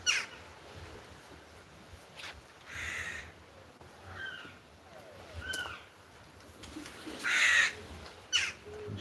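Crows caw in a few scattered, short bursts at moderate distance over a steady outdoor background at a racing pigeon loft, with quiet stretches between calls.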